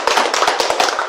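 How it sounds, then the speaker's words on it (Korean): A short burst of hand clapping from a group at a mind-study talk, loud, close and quick with sharp repeated claps in a fast irregular rhythm. "네. 박수."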